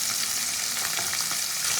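Small Gang Khoira river fish fry in hot oil in a pan for a fish jhal, giving a steady, close, dense sizzle with no talking.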